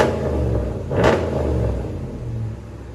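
Single sharp rev from a 2015 RAM 1500 pickup's 5.7L HEMI V8 through a Dynomax Race Bullet dual exhaust, a loud nearby blip rising over a steady throaty idle that then settles and fades slightly.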